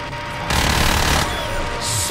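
Machinery drill whirring steadily in the co-op shooter Call of Duty: Ghosts Extinction, a dense mechanical grinding that swells louder midway and stays fairly close with game noise around it.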